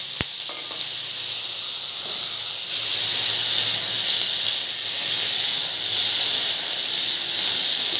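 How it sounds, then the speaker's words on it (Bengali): Ridge gourd pieces frying in oil with black cumin, a steady close hiss and sizzle throughout with no talking. "এটা হালকা করে একটু ভেজে নিতে হয়।"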